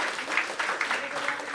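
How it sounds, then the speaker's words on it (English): An audience at a school-leadership workshop applauds panelists on stage, a dense, steady wash of clapping from a crowd, fairly near and continuous. "Well, a big applause for our panelists,"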